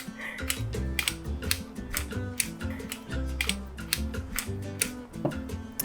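Pepper grinder turning over a bowl of guacamole, a rapid run of dry ratcheting clicks and crunches in close, uneven bursts, alone and close by.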